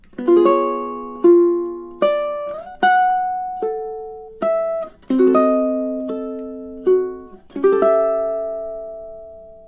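A plucked ukulele plays a slow melody of single notes from the Romantic classical piece "Bella Vita", each decaying before the next, evenly paced with no voices.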